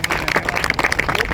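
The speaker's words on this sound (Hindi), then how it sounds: "सभी तेजी से तालियां बजाइए।" Brief burst of fast, dense clapping from a gathered group at a district disaster-management and NDRF water-rescue event, loud and close with some voices mixed in.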